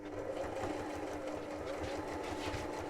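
Sewing machine stitching forward and then back to lock a stitch: a continuous close mechanical whirr with a rapid needle-driven chatter running throughout, alone and steady.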